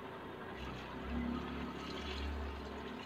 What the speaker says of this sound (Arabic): حطيت الميه اهو وخلصت